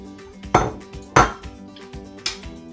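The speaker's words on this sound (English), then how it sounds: "last job is to stir in the green beans" A spoon knocks in a pot while green beans are stirred into a fish and coconut curry, giving three distinct clattering strokes with short quiet gaps between them and no talking.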